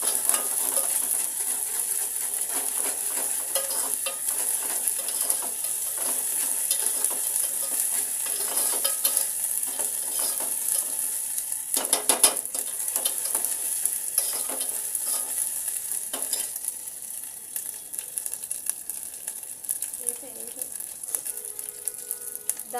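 Ginger-garlic paste fries in a pan for an egg curry, a sustained crackling sizzle with frequent light scraping and clinks of a utensil against the pan, moderately loud and close.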